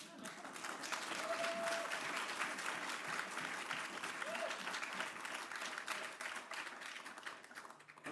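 Sustained applause from the audience at a prize ceremony and panel, a dense steady wash of many hands clapping for several seconds, with faint whoops or voices rising briefly above it.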